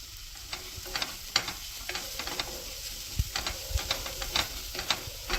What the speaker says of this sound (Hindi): इस तरह से लहसुन और मिर्च को भी अच्छे से भून लेंगे।